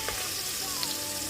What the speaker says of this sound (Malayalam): ഇതിൻ്റെ പച്ച മണം മാറി വരുന്നവരെ ഒന്ന് വഴറ്റി കൊടുക്കാം.